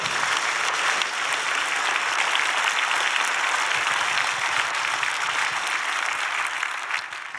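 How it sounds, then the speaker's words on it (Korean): A church congregation at a building dedication service claps loudly and continuously, a dense, steady wash of applause that eases off right at the end. "우리 교회 얘기하니까 박수를 그렇게 세게 치세요"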